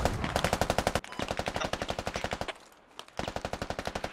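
Rapid automatic gunfire from a squad-based video game, loud and close, in steady bursts with a brief pause near the middle before firing resumes.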